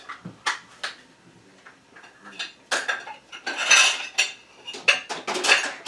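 Metal cutlery clinks and rattles as a drawer of spoons is rummaged for a teaspoon, scattered sharp jangles that grow busier and louder toward the end.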